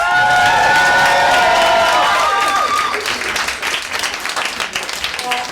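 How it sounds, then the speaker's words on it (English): A live audience at a compered show bursts into loud applause and cheering, dense clapping with whoops and shouts that gradually thin toward the end. "the fabulous Vivacity Bliss, who deserves a round of applause"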